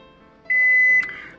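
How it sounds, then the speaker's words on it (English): A steady electronic kitchen timer alarm tone sounds for about half a second, followed by a brief burst and fading tail, with faint background hum. "Okay, so our alarm just went off for 25 minutes."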